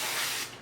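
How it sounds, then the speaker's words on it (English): A single short hiss of non-stick cooking spray into a 13 by 9 inch baking dish, close and steady for under a second before tapering off. "I'm gonna go ahead and spray with my non-stick cooking spray"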